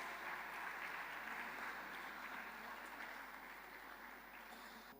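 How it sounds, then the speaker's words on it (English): An audience claps throughout at a formal programme held by NLC Bharat, a faint, steady wash of applause that fades slightly toward the end. "A huge round of applause, friends"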